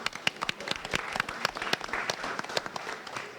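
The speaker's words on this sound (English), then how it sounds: "Come on, Teddy, give me a round of applause." An audience at a sports leadership forum breaks into dense, steady applause with scattered individual claps standing out, lasting a few seconds with faint voices mixed in.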